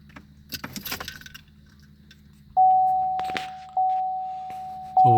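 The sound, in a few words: car key turned to ignition on position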